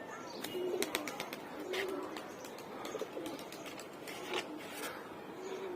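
Several pigeons, including males, coo softly in a loft where chicks have started hatching, with repeated low cooing phrases and a steady background of rasping noise and scattered bird calls.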